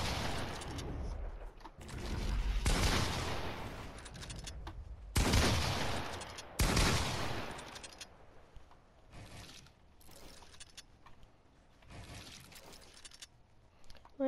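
Shotgun and automatic gunfire from a video game come in heavy bursts of blasts and rapid fire, with quieter mechanical clicks and gaps between volleys.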